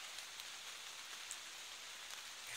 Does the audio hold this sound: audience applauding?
no